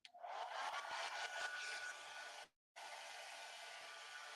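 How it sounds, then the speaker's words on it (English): A hair dryer on its cool setting blows a steady close roar, cuts out for a moment, then starts again at the same level. "Again, hair dryer on cool settings."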